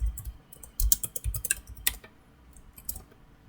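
Computer keyboard typing comes in a quick, uneven run of close, crisp keystrokes while a virtual machine gets a new name, thinning out toward the end with a few isolated taps.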